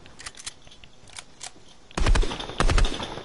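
Blaster-like shots from stormtroopers in a video game, faint scattered pops at first, then two louder, heavier bursts of rapid firing in the second half.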